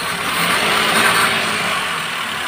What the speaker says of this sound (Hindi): तो गाइस, गाड़ी स्टार्ट हो चुकी है